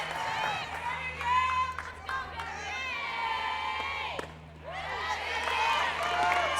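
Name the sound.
crowd applauding batter Gabby Marino on her senior day at a softball game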